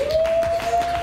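A few evenly spaced hand claps sound during a spelling bee reaction, over a steady tone in the background.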